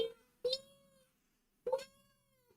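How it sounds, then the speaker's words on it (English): A kitten gives two short, clear meows about a second apart. Each meow is faint and close against near silence. "The cat outside's meowing at you now."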